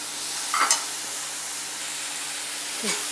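Chopped vegetables with turmeric sautéing in a pan for vegetable corn aval upma, a steady soft sizzle with two brief stirring scrapes, no talking.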